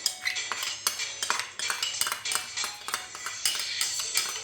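Utensil scraping and clinking inside a pot as caldereta mix and tomato sauce are stirred into mutton, a steady run of close metallic knocks and scrapes with no talking.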